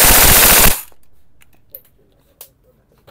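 An airsoft gun fires on full auto, a loud, dense burst that cuts off abruptly, followed by a few faint clicks and taps in the quiet afterward.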